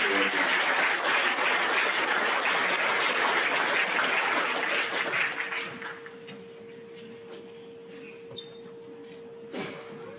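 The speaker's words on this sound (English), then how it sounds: "I'll put a round of applause for our social studies board." Audience applause at an eighth grade school awards program, steady clapping for about five seconds that then fades out, leaving a quiet room with a faint hum and a stray sound or two.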